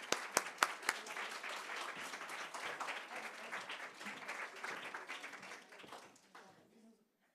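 Audience applause at a library author event welcoming writer Kimberly McCreight in New Canaan, a room of steady clapping that starts with a few sharp claps, swells, then tapers to silence.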